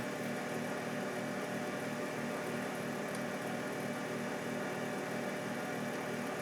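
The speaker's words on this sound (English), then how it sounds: "I need to figure out how fast the spindle is turning." The spindle of a vintage Barker horizontal mill turns with a steady, even mechanical hum and drone that holds at a constant level throughout, close by with no talking.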